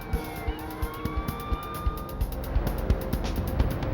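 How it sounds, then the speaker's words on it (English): Police sirens approach through street traffic, their rising and falling wails sustained over a steady car rumble and scattered knocks. "Only the sound of approaching sirens prevented the young woman from being seriously hurt."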